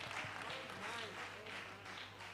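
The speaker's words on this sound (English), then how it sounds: "we want to give her a round of applause" A congregation at a Sunday morning church service applauds a first-place gymnastics winner, a steady, dense wash of clapping from a moderately distant crowd with faint voices underneath.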